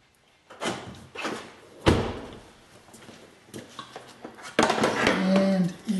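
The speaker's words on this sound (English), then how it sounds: "First, I'll open the charging door." A few sharp mechanical clunks and clicks of a Chevrolet Volt's charging door being opened, with faint handling noise between them.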